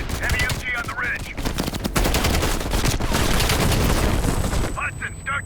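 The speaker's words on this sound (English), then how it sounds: "Heavy MG on the ridge." Heavy machine gun fire from a ridge in Black Ops Cold War, dense sustained bursts of rapid gunshots close and loud, overlaid with battlefield noise and brief radio-style voices.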